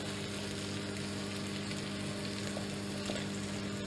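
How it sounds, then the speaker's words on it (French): Lard, grapes and potatoes stirred together in a pan, giving a steady, even sizzle of frying fat with faint scraping of the spoon throughout, close and continuous with no talk. "On va bien mélanger de façon à ce que tous les ingrédients soient"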